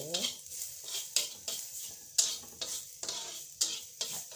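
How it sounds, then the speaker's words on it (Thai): Garlic and spices stir-fried in a pot, quick rhythmic metal scrapes and clinks of a utensil over a soft sizzle, close and even-paced, no talk. "กระเทียม จับลงไปผัดก่อน"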